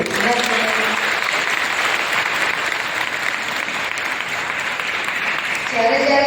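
An audience at a talk about Arya Samaj bursts into sustained applause, a dense wash of many hands clapping that holds steady for several seconds and swells slightly again at the end.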